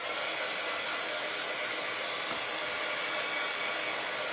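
Hair dryer blowing steadily on a DIY bunny egg kit, a constant loud airy whoosh and motor hum throughout with no pauses.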